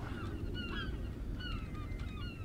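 Seabirds call in the submarine video game Tom Clancy SSN, sounding as several short honking cries scattered over a steady background rumble, with no talking.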